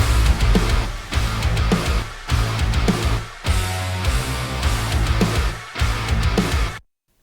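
A Serum synth preset drives a heavy metalcore breakdown of dense, distorted low chugs with downsampled accent notes. The sound is loud and crushing in choppy, stop-start bursts, with short gaps before it cuts off abruptly.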